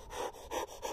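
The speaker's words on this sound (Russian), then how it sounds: "мы начинаем часто дышать" Rapid, shallow breathing as from entering cold water, three quick close-up panting breaths in a steady rhythm, each a short noisy puff, with no talking.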